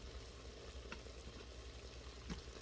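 Lamb sizzles and fries while sautéing in an Instant Pot, a faint steady crackle with occasional stirring scrapes, no voices.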